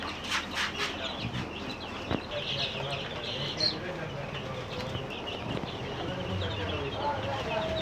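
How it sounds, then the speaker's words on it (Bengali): Many seven-day-old farm chicks chirping and peeping close by, a busy overlapping chorus with occasional louder cheeps and some clucking in the background. "সাত দিন বয়সী ফার্মি মুরগির বাচ্চা"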